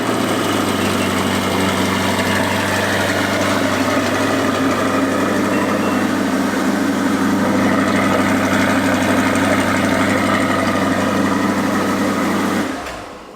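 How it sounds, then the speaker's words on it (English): A vehicle engine, painted Seawolf Gray, cold-starts and settles into a steady, loud idle with a low rumble that runs unbroken for the whole stretch before cutting off abruptly at the end. "I'll give y'all a cold start if you want one."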